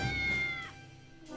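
A cat meows in the video game Triangle Strategy, two clear, close meows with a rising then falling whine, alone with no talk.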